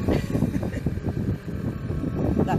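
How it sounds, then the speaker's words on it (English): A small portable generator aboard a sailboat makes a steady low mechanical drone throughout, with a faint choppy engine pulse and some wind buffeting. "That noise you can hear is my little generator."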